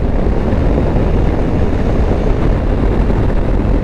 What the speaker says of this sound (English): And that engine, I do like that engine. This is a proper big V-twin.